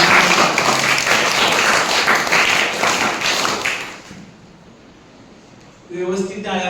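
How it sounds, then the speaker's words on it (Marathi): A room of schoolchildren claps loudly for their teacher at a Guru Purnima celebration, a dense burst of applause lasting about four seconds before it drops to quiet and a voice starts speaking. "सगळ्यांनी जोरदार टाळ्या वाजवून मॅडमांचा अभिनंदन करा."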